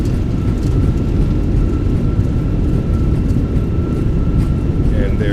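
Airbus A320 engines roaring in reverse thrust during a landing rollout at Schiphol in the MSFS 2024 flight simulator, a loud steady broadband rumble throughout with a faint tone above it, a voice talking over it.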